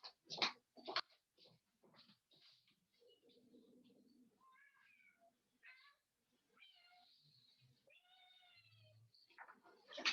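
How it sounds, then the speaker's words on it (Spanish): A house cat meows softly several times, wanting a door opened. The high, drawn-out calls come from close by in a quiet room, with a few faint thumps and rustles between them. "mi gato quiere que le abra la puerta"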